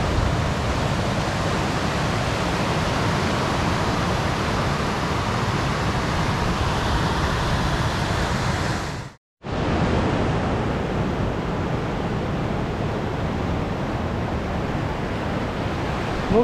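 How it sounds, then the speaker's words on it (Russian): Ocean waves at high tide on the Oregon coast near Tillamook, a steady loud wash of surf that fills the whole clip, with a brief break near the middle and no voices. "Сейчас как раз прилив."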